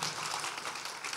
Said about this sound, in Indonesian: Tepuk tangan untuk Mbak Sinta nih.